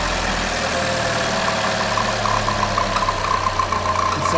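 A rebuilt 1.4L turbocharged Chevy Cruze engine idles steadily and close by, a smooth continuous hum with a light squeaky belt note riding on top throughout, no voices.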